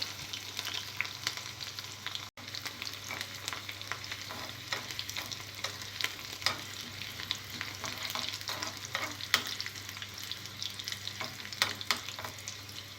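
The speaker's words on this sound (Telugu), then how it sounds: "ఆవాలు జీలకర్ర కొద్దిగా ఫ్రై అయిన తర్వాత వెల్లుల్లిపాయ, ఎండుమిర్చి వేసుకోవాలి." Mustard seeds, cumin, garlic and dried red chillies crackle and fry in hot oil for a tempering for mint pickle, a steady close sizzle with scattered sharp pops and spits throughout, no voices.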